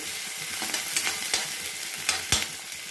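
Onion and chopped ginger frying and sizzling in a pan while being stirred, a steady close hiss broken by several sharp scraping strokes of the spoon, with no talking.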